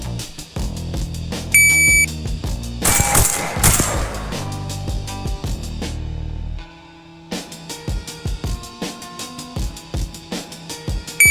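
A short electronic start beep in the Tactical Assault VR shooting game, followed by bursts of gunfire and sharp clattering impacts, with a brief quiet gap midway before more shots and clicks.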